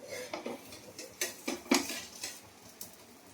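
Rolled egg roll dough laid on a hot griddle, with close clinks and taps of a utensil against the pan, a few sharper knocks and a faint soft sizzle underneath, no talking.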